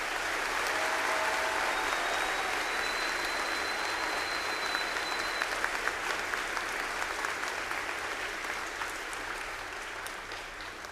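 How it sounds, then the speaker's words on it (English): Sustained applause from a crowd at a school veterans assembly honoring military members, dense steady clapping filling the room throughout and slowly tapering near the end. "Please give them one last round of applause."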